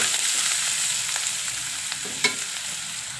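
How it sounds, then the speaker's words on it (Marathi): Onion with turmeric, chili and coriander leaves frying while being stirred, a constant close hiss with occasional spoon scrapes and one sharp knock near the end. "तर अशी मी हळद मिरची कांद्यामध्ये टाकलेली आहे"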